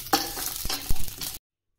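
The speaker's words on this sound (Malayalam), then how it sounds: "ഇനി ആശാളി മൂത്തിട്ടുണ്ട്. പൊട്ടണ ശബ്ദം കേട്ടാ." Garden cress seeds (asali) dry-roasting in a pan for a Kerala Ayurvedic medicinal laddu, with a few sharp pops and crackles among the light scraping and stirring, close and fairly quiet, lasting just over a second.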